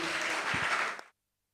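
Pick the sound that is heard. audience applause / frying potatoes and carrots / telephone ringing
audience applause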